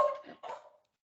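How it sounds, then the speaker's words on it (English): A dog gives two short, muffled barks in quick succession at moderate distance indoors, followed by silence. "My dog is barking at me"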